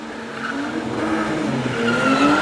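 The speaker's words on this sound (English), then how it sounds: "It's Altezza heaven here. They're all spinning around." Toyota Altezza cars drift and spin on a wet track at Mondello Park, with strained engines revving and tires hissing and squealing across the surface, continuous and fairly loud at mid distance.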